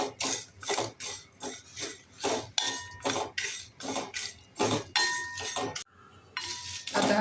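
Cashews, peeled chickpeas and other masala ingredients being dry-roasted in a pan, with repeated rhythmic scraping and rattling strokes of a spatula against the metal, close and clear, pausing briefly near the end, with no talking.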